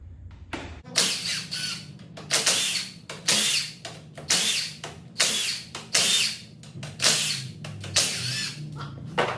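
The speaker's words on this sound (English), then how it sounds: "Got my 9/16 on my 1/2 inch impact." A 1/2 inch impact wrench with a 9/16 socket hammers out rear axle bolts on a 1993 Dodge W250 Cummins truck during a drum brake job, with repeated loud rattling bursts in a steady rhythm and short pauses between them.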